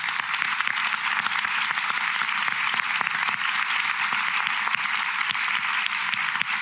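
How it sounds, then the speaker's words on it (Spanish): Audience applause at an annual university conference, a dense, steady wash of many hands clapping that holds at constant loudness throughout. "Así que, por favor, su aplauso."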